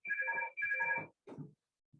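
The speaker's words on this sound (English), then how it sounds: "my damn phone is ringing" A mobile phone ringtone sounds during an online training webinar: two bright melodic bursts of tones close to the microphone, then a shorter lower chirp and a brief final blip before it cuts off, with no talking.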